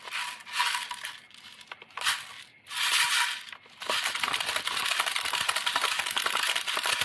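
Airsoft tracer BBs rattle and clatter as they pour from a speed loader into an MP5 magazine, a dense, continuous close-up plastic rattling that grows steadier midway.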